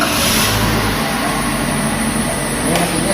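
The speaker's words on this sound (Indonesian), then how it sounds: "Ini mesinnya sudah bisa berputar" A Toyota Avanza engine idling after an EFI repair, a loud steady running drone held close throughout.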